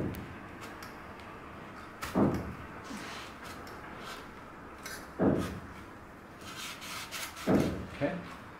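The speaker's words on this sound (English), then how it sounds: "you slide the muffler on the mid pipe" Metal slip-on muffler sliding onto the mid pipe of a BMW F GS motorcycle exhaust, giving three separate scraping, clunking pushes spaced a few seconds apart, close by, with faint ticks between.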